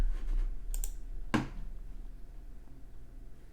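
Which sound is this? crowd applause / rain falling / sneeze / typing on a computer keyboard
typing on a computer keyboard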